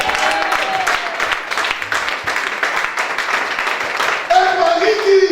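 Church congregation clapping and cheering, a ragged burst of hand claps under a raised voice, with loud amplified speech running through and a sharper surge near the end.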